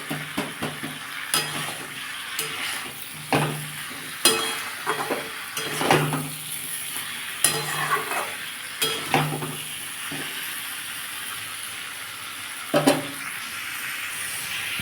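A spice paste of cumin and ginger is stir-fried in a pan for a fish curry with potato and papaya. There is a steady sizzle and hiss, with repeated scraping stirs and light clinks of a utensil against the pan, and no talking.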